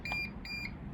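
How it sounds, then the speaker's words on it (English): Two short electronic beeps from a Bosch vented tumble dryer over a steady low mechanical hum, fairly close and clear. "Beep."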